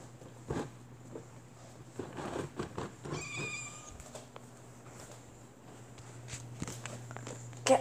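A black house cat meowing several times near the microphone, with soft footsteps and shuffling around it in a quiet indoor space.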